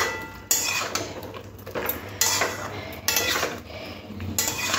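A utensil scrapes and clatters in a pan while cauliflower stems are tossed with mustard paste. The strokes are loud and close, coming in uneven bursts with quieter sizzling between them.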